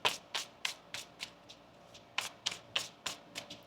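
Tarot cards riffled and shuffled by hand in a quick run of about a dozen crisp, papery bursts, close and fairly quiet, with no voices.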